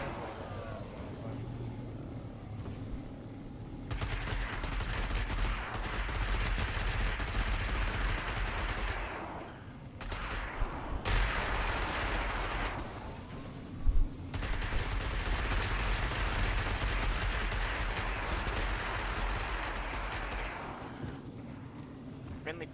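Bursts of rapid video game gunfire in Destiny come in long sustained stretches with brief gaps and a sharp louder shot midway, while players talk among themselves.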